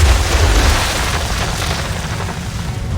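Ship cannon firing chain shot at sea, a heavy sustained rumbling boom filling the low end, loud and close without any distinct separate blasts.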